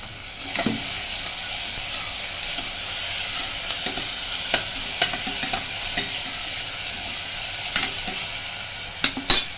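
Capsicum sautéed with tomato and ginger-garlic paste in a pan, a constant sizzle with repeated spatula scrapes and knocks, louder clatter near the end, no voices.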